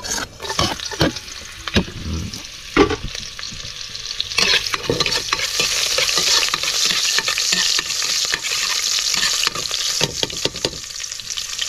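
Ginger sautés in a hot pan in a close, crackling sizzle. Irregular stirring scrapes and clatters come through at first, then the frying grows louder and steadier.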